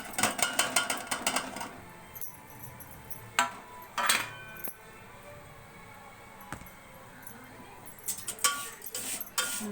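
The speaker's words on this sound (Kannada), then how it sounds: "ನಾನು ಇದಕ್ಕೆ ಹುರ್ಕೊಂಡಿರೋ ಶಾವಿಗೆ ಹಾಕ್ತಾಯಿದ್ದೀನಿ." Roasted vermicelli being added to a pan with raisins and cashews for coconut milk payasam, heard as scattered metallic scrapes, clinks and rattles of utensil on cookware, loud bursts separated by quieter gaps.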